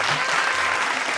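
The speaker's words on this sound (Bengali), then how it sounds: "জোরে হাততালি" A studio audience at a Bengali family TV game show claps together, a dense, even wash of applause, close and sustained from start to finish.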